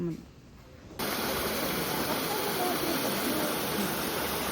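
Magdiwang river in Romblon, Philippines, flowing as a steady broadband rush that starts abruptly after a quiet first second and then holds loud and even, close by.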